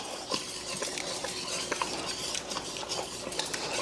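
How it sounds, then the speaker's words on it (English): Spoon stirring a pot of South Carolina hash, steady scraping and clinking of a utensil against the pot with a soft sizzle underneath, continuous and close. "Just gonna stir, stir, stir."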